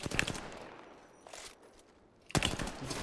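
Gunfire from an Apex Legends match: a burst of rapid shots opens the clip, a quieter stretch follows, then another sharp volley of shots lands near the end.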